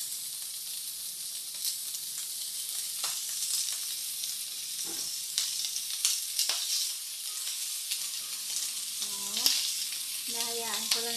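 Pork frying in its own melting fat, a steady close sizzle and crackle with occasional pops, and a faint voice speaking near the end.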